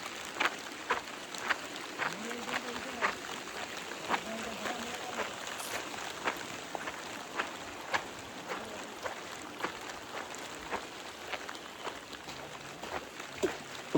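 Steady rain falling on a road during the rainy season near a jeep, a constant hiss with scattered drop taps, at moderate level. A voice talks faintly beneath it.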